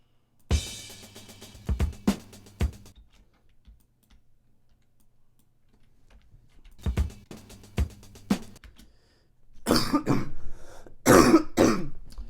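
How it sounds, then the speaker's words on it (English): Two bursts of coughing separated by quiet, following a few sharp clicks and taps near the start. "Just can't get rid of this cough, man."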